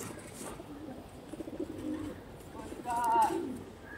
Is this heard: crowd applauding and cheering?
no